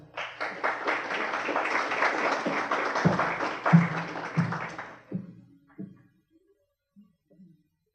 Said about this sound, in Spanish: Vamos a pedir un fuerte aplauso para que nos acompañe la abogada